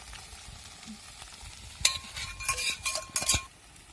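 Okra with masala is stir-fried in a pan: after a quiet start, a spatula scrapes and clinks against the metal in several quick strokes over a soft sizzle.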